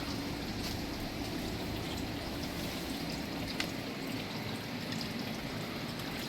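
Creek water flowing, a steady wash of running and trickling water that stays even and fairly close throughout, with no talk.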